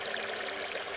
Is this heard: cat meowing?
no